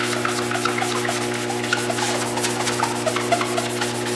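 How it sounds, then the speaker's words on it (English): Sandpaper rubs over a car headlight's yellowed, waxy outer layer in quick, steady back-and-forth strokes. The scratching is close and fairly loud, with no voices. "You want to sand this completely off."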